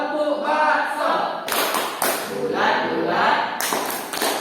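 Tepuk bakso, a rhythmic hand-clapping game led in a classroom during teaching practice, with sharp claps and taps landing in a patterned beat alongside a voice chanting the rhythm.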